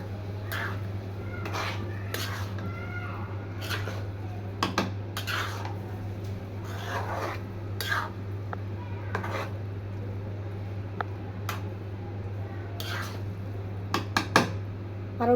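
A spoon stirs khichuri in a cooking pot, giving irregular scraping clinks and taps of metal against the pot over a steady low hum from the stove, with occasional louder knocks near the end.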